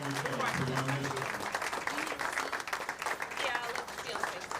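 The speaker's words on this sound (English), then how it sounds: "everybody give a round of applause to Sue" Applause from the crowd at a bowling alley tour event fills the whole stretch, a dense steady patter with voices and cheering mixed in.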